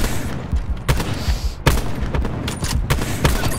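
Rapid gunfire from Call of Duty Black Ops 4 in a multiplayer match: loud, dense bursts of shots with sharp cracks near 0.9 and 1.7 seconds, continuing through the whole stretch.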